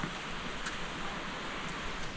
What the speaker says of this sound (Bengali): ঝর্ণার আওয়াজ পাচ্ছি, এখান থেকে ঝর্ণাটা দেখা যায় না।